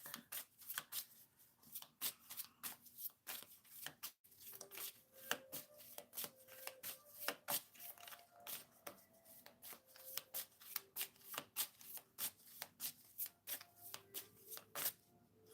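A deck of tarot cards is shuffled by hand again and again, crisp riffling bursts in quick irregular rhythm, close and soft, with a brief pause partway through.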